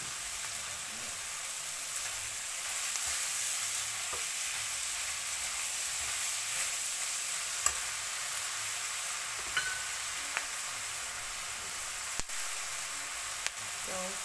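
Egg fried rice with tomatoes being stir-fried in a pan, a steady hiss of sizzling oil with occasional scrapes and taps of the spatula, close and continuous.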